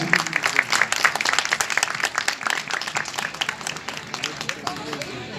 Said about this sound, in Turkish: Çin Davran ve Büşra Demeli için olsun kocaman alkışlar